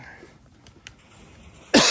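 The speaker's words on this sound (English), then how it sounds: "Excuse me for the cough." A single loud, abrupt cough breaks a near-silent room at the very end.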